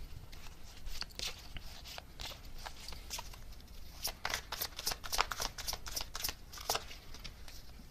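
Tarot cards are shuffled up close in quick, riffling bursts of papery flicks that grow denser toward the end, quiet and with no talking.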